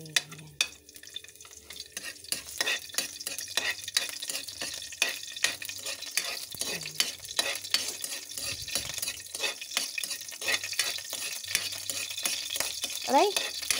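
Vegetables stirred in a pan for a home-cooked noodle dish, with repeated spatula clicks and scrapes over a light sizzle, close by, plus a brief voice near the end.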